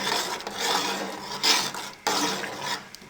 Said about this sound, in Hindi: अब इसको हम अच्छे से मिक्स कर देंगे